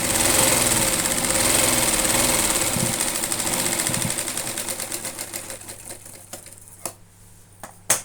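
Sewing machine stitching a cloth bag: a fast, steady mechanical whirr that runs continuously, then slows into separate spaced clicks and stops, with a few sharp knocks near the end.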